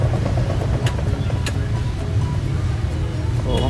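A washing machine motor spins with no load and no detergent, its belt drive turning, giving a loud, steady low hum that continues unbroken throughout.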